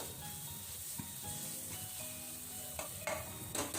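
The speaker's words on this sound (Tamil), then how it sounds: "இப்போது இஞ்சி பூண்டு பேஸ்ட்டு, வெங்காயம் எல்லாம் நல்லா வதங்கிடுச்சு." Ginger garlic paste and onions sizzle steadily in a pan while being sautéed for a Chicken 65 gravy, with close, continuous frying crackle and occasional stirring scrapes of a utensil, no talk.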